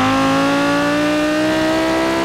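An Audi R8 RWS 5.2-litre V10 engine screams at full throttle, its loud steady howl climbing smoothly in pitch as it accelerates hard.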